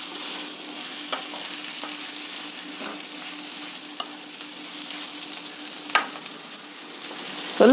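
Onions fry with salt in a pan for a dosa side dish, a soft continuous sizzle broken by occasional scrapes of a spoon and a sharper knock near the end.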